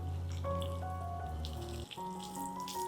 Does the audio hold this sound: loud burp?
no